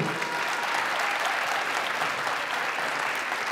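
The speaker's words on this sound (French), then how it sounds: "ils ont pas assez applaudi" An audience at a children's telethon event claps steadily, an even, continuous wash of applause from a crowd heard at moderate distance.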